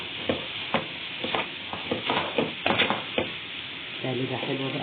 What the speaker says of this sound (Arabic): هقلب بقى كله كده على بعضه